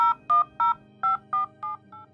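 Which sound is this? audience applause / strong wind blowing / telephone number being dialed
telephone number being dialed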